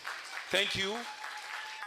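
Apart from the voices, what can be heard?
audience applause for the event convener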